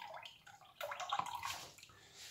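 Homemade orange juice is poured and splashes in short bursts of liquid with gurgles, quiet and close, with brief pauses between the pours.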